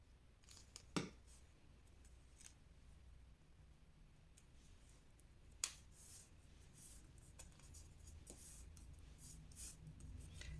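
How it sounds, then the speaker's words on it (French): Scissors snip around the outline of a sheet of fairly rigid paper for a scrapbooking advent calendar, with faint, quiet cutting sounds and a few sharper clicks against a soft background hush. "Vous voyez la partie du haut, je vais découper ici tout autour."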